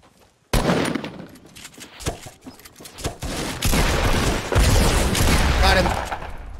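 Gunfire rattles through a squad battle-royale video game match, bursts of rapid automatic shots and sharp reports starting abruptly and continuing in clustered volleys, with players talking over parts of it.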